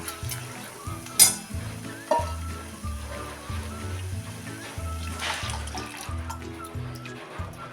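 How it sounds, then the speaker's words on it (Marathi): Mashed dal splashes into hot oil tempering, setting off a loud sizzle and bubbling that keeps crackling steadily, with soft background music playing throughout. "आता ओतूया ही घोटलेली डाळ"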